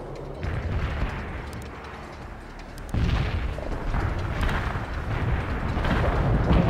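Battlefield din from the real-time strategy game World in Conflict: gunfire and explosions rumble in a dense, continuous mix, jumping louder around the three-second mark and staying heavy, with scattered booms and bursts.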